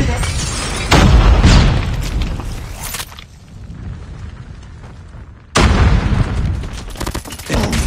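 Frag grenade explosions in Call of Duty Mobile during a ranked Search & Destroy match: two loud, booming blasts with gunfire-like crackle, the first near 1 second and another near 5.5 seconds, separated by a quieter stretch.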